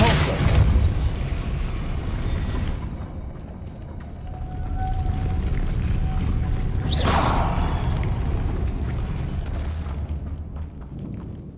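A Depulso spell in Hogwarts Legacy is cast with a rumbling, booming force blast and a whooshing burst partway through, set against a dense, continuous roar of game effects.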